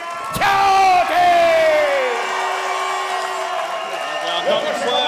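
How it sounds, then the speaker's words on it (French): Crowd at an amateur boxing event cheering for a fighter as he is introduced: a loud swell of shouts and whoops rises and slowly fades, with an amplified voice ringing over the noise. "Encore une fois, une belle réaction de la foule"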